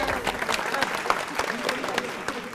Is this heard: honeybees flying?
no